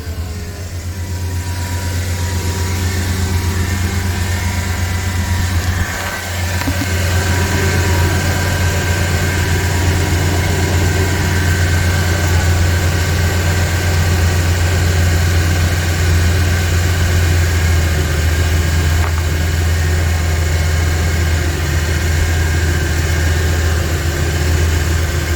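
The 6.0 engine of a 2001 Chevy 2500HD pickup truck idles steadily with a deep, loud, continuous rumble close by, a brief dip near the start and no voices.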